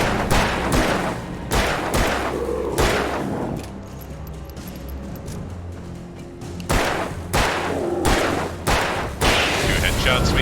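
Alan Wake Remastered gunfire: a rapid series of sharp, loud gunshots in two bursts separated by a quieter stretch of ambient game sound, each shot punchy and close.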